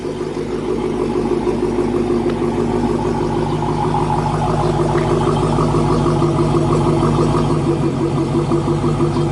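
A 2016 Dodge Challenger SRT Hellcat idles steadily and loudly up close, its low, even engine rumble holding throughout with no talking.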